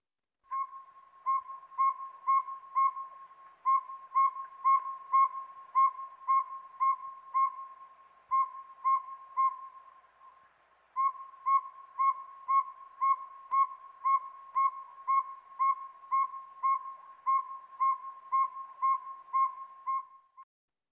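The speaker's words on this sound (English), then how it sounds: "people overwhelmingly voted for one option, the northern saw-whet owl, and that is indeed what it was" A northern saw-whet owl gives its tooting call: a long, steady series of evenly spaced, clear whistled notes at one pitch, with one short pause midway. The bird sounds fairly close and calls alone without any talk.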